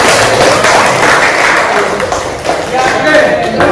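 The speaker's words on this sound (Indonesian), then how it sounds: "Kita beri tepuk tangan untuk kita." A class of students in a collaborative session on assessment principles claps together, a broad steady patter lasting several seconds with a slight dip midway, with talk mixed in.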